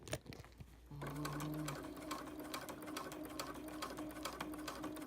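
Sewing machine stitching fabric binding, a steady fast mechanical whir with a rapid needle rhythm running continuously after a brief start, close and loud.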